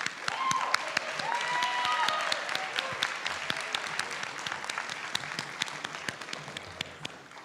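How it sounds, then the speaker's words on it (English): Audience applause at a school district board of education meeting honoring district level student winners, dense clapping that swells then gradually thins out, with some talk mixed in underneath. "Let's give another applause for our 2022 district level winners."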